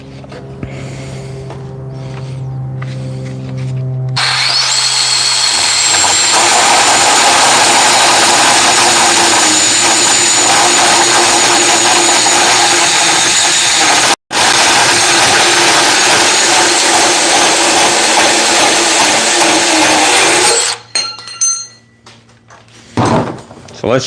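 A reciprocating saw cutting through material on an electrician's work setup, a loud steady buzzing roar that runs continuously for about sixteen seconds before stopping, with talk before and after.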